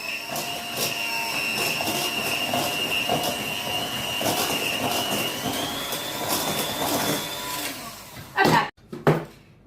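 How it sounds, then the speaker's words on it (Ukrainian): An electric mixer beats eggs with sugar and vanilla sugar for an apple charlotte batter, a steady loud whir with a high motor whine that rises slightly in pitch, then cuts off near the end followed by a few clunks. "І збиваємо яйця."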